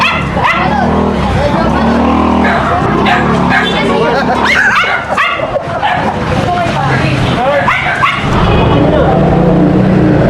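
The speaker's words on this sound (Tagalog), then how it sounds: "Chihuahua." A Chihuahua barks and yips repeatedly, sharp and close, with whimpering between barks, under people talking and traffic noise.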